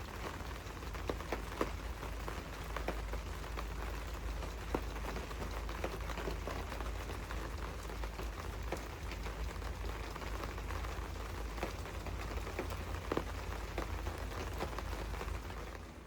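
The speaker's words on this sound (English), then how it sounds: "do I want to go out in that rain?" Steady rain falling outside a cozy home, a continuous broadband hiss with scattered drop ticks, even and moderately loud throughout with no talking.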